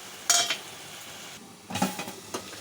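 Masala paste of ginger-garlic, mint, curry leaves and chillies frying in oil in a pan for chicken curry, with short sizzling bursts and stirring scrapes coming in two clusters, fairly close and moderately loud, no talking.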